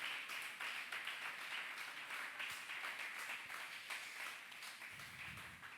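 A church congregation clapping together, steady distant applause sustained throughout with a faint rhythmic edge, fairly quiet.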